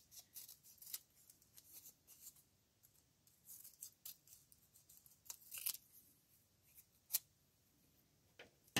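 Scissors snip paper pieces for a donkey craft in short, irregular close cuts with quiet pauses between them and a crisp rustle of paper, and nobody speaks.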